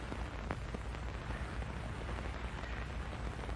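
Steady rain falls throughout, a dense, even hiss of drops on surfaces with a few sharper spatters, moderately loud and continuous with no voices.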